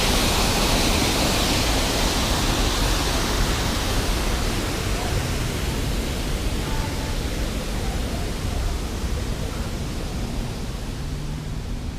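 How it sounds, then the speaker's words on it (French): Waterfalls in Washington State roar as a dense, continuous rush of falling water that stays loud and steady throughout, with no distinct voices over it. "Avec des cascades ici."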